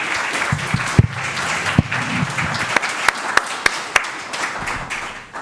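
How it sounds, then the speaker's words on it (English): Audience applause for the presenters at the close of a conference session, steady clapping from a room of people with a few sharper claps standing out near the end, tapering off toward the finish. "Please give one final round of applause for all of our presenters."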